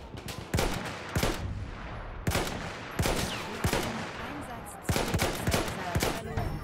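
Battlefield 1 gameplay gunfire: repeated loud sharp shots in short bursts and single cracks, closely spaced across the whole stretch, with no voices over them.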